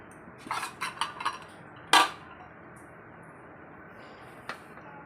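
Metal clinks as a lid goes onto a pot of freshly boiled milk in a home kitchen: a few light taps, then one sharp clang and a faint later knock, close and otherwise quiet.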